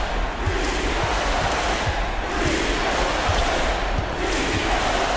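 A basketball video game crowd chants defense in a loud, continuous arena roar, with a rhythmic pulse of chanting voices and faint court thumps running through it.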